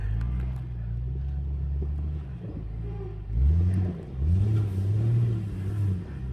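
An overland vehicle accelerates at full throttle, its engine rumbling loudly and then climbing through rising revs in repeated surges as it pulls away close by.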